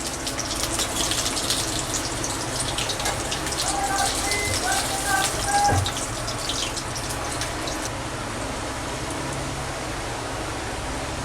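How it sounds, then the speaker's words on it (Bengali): Potatoes frying in hot oil in a home kitchen while making methi chicken, a steady close sizzling hiss like rain, running without a break and fading a little toward the end. "আমি আলুগুলো এবার ভেজে নেব।"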